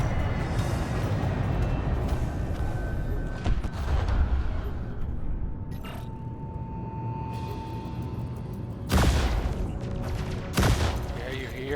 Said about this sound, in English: you hear the NPCs firing with the railguns